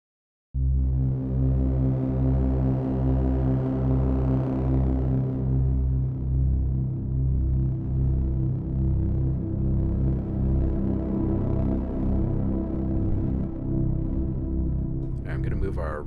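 A synthesized cinematic drone swells in after a short silence, a sustained low harmonic bed shaped by comb filtering and washed in reverb, holding steady and loud with slowly shifting tones until a brief burst near the end.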